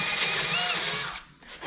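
A power drill whines steadily, stepping up the size of an existing hole in a 1988-1999 Chevy/GMC GMT400 truck body, running briefly and then cutting off.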